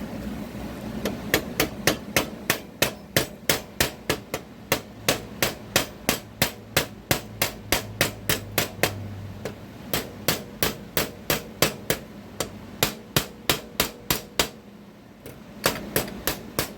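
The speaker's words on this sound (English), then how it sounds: "Use a trusty old hammer to close those gaps up." A hammer strikes a turbo exhaust manifold on a 2.5 Iron Duke engine, with dozens of sharp metallic blows in a steady, fairly quick rhythm, close and clear, pausing briefly before a few final hits.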